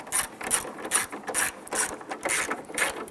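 A hand ratchet clicks in quick, close bursts while snugging screws on the plastic upper turn signal housing of a 1995–2001 Ford Explorer, with short pauses between the strokes.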